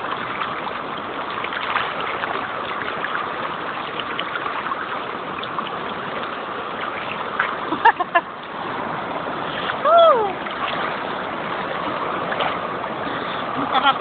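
Water splashes and ripples around someone bathing and swimming in open water while wearing goggles, a continuous gentle wash broken by a few louder splashes, with a voice speaking now and then.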